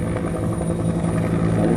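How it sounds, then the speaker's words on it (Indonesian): Helicopter rotor and engine drone steadily and loudly at close range as the craft lifts off again from a field landing site, a continuous throbbing roar with no break. "Helikopternya naik lagi."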